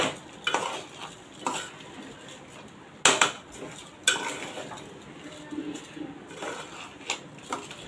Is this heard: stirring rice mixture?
yes